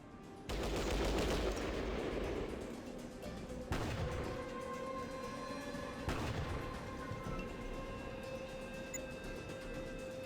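Gunfire in the video game Fallout Tactics: a loud burst of shots opens, followed by two sharper single reports a few seconds apart, with ringing game tones lingering underneath.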